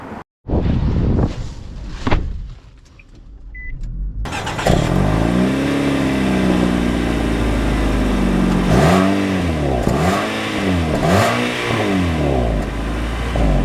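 A 2025 Nissan Altima AWD starts off and accelerates, engine rising from a muffled idle into a loud, sustained drone with repeated rising and falling revs as it pulls through gears, heard from inside the cabin.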